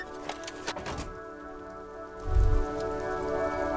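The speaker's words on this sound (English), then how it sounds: "All around you, rain falls on the great city of Revachol." Steady rain falls across a city street in the video game Disco Elysium, a continuous hiss of drops on surfaces with a soft low thud partway through, heard alone.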